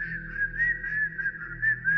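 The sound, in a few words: imitated whistling tune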